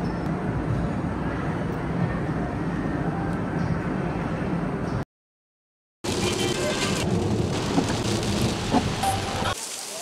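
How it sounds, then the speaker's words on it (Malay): Heavy monsoon rain during Tropical Storm Senyar pours steadily with a broad, dense roar and occasional low rumbles of thunder, broken by a second of silence midway. "Kau main lebat hujan tu"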